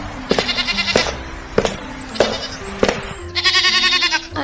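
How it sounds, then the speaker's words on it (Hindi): Young goats bleat repeatedly in quavering, nasal cries, close and fairly loud, with several overlapping calls and sharp knocks between them. "बकरी के बच्चे इधर उधर दंदनाते क्यों फिर रहे हैं?"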